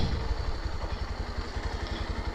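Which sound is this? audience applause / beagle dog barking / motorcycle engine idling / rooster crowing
motorcycle engine idling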